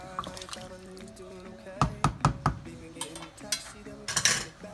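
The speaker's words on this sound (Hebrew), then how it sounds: "מערבבים טוב טוב" Beet stew with potatoes being stirred in a cooking pot, with a few sharp clinks of a spoon against the pot and soft scraping and sloshing, heard close and moderately loud without talk.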